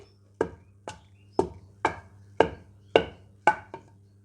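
Fried seeds pounded in a mortar into a paste for curry leaf and garlic spice powder: eight firm, evenly spaced thuds about half a second apart, close and clear over a low steady hum.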